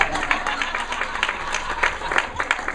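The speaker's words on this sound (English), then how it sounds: "Please give him a round of applause." Wedding guests applaud Pablo, a steady spread of clapping from a crowd at moderate distance, with faint voices mixed in beneath the claps.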